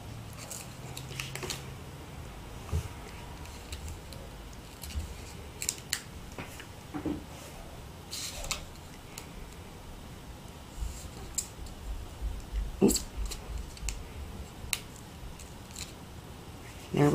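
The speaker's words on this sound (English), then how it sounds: "use your paper snips to take off the little backing if you don't have the fingernails" Paper snips cut the small backing off a card, giving scattered close clicks and crisp snipping cuts spread over a quiet room.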